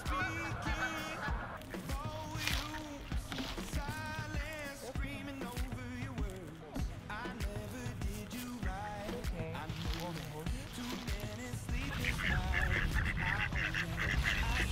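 A person imitates a duck's quack during a blooper take for a short film, a series of nasal honking calls repeated over noisy, busy background sound with other voices.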